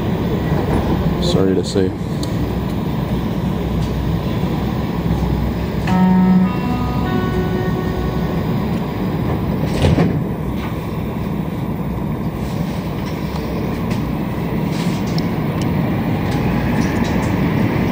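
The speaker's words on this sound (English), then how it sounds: "the Azure has definitely got a smooth ride, but it's not amazing in certain parts. It's rough, actually." A Montreal Metro Azure train rides along the Green Line at rush hour, with a loud, constant rumbling roar of wheels and motors, brief high squeals and rattles, and people talking over the noise.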